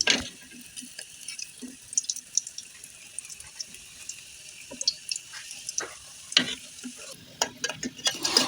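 Wheat-flour snacks fry in hot oil in a small wok, making quiet, scattered crackles and pops with a faint hiss between them.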